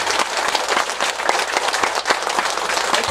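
Sustained, dense audience applause after a lecture on the Diamond Sutra, with many hands clapping evenly and fairly loudly throughout.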